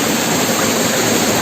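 Seetharkundu waterfall in the Nelliyampathy valley near Kollengode, rushing water roaring loud and close in a steady, unbroken wash with no voices.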